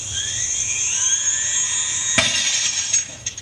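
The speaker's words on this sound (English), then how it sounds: "The glass was shattered." Glass set on the edge of a table shatters in one sharp crash partway through, cutting into a sustained high electronic whine, with a few small tinkling fragments after.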